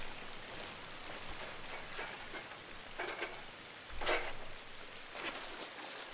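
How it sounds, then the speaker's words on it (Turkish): Heavy rain in the video game INSIDE, a quiet continuous hiss of falling drops with scattered splashes and a couple of louder impacts, with no speech. "Yağmur da çok yağıyor ya ıslandık hasta olmayalım şimdi."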